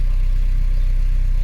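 A Peugeot 204 engine idles smoothly after a tune-up, a steady low, even rumble with regular pulsing that stays close and constant throughout.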